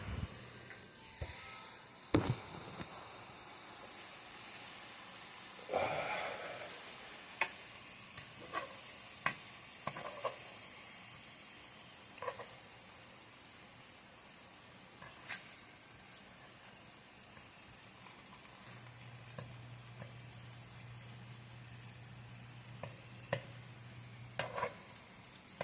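French fries pan fry in oil, giving a quiet, steady sizzle with scattered sharp ticks and pops from spattering. A few clunks and a low hum come and go, and no one speaks.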